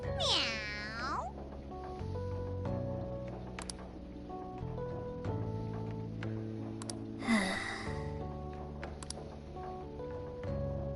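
A cat meows several times, with a drawn-out cry near the start and another around the middle, over continuous tonal music in the background.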